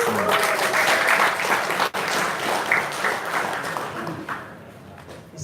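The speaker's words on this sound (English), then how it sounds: "please give your big round of applause" A crowd applauds steadily for several seconds at a chemistry awards ceremony, a dense wash of clapping that briefly dips near the two-second mark before tapering slightly.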